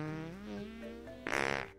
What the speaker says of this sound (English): a game that has the character fart as soon as he gets knocked out